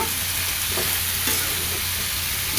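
Spices of salt and turmeric frying in hot oil while being stirred, a steady close sizzle with soft scraping strokes running throughout, no voices.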